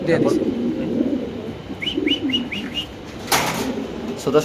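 A pair of local deshi pigeons for sale coo nearby, with soft low calls and a few brief higher chirps. Background chatter runs underneath.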